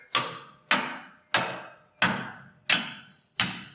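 Six evenly spaced sharp metallic strikes of a pry bar on a Tri 5 Chevy rear axle, each ringing briefly and fading before the next, close and fairly loud with no voices.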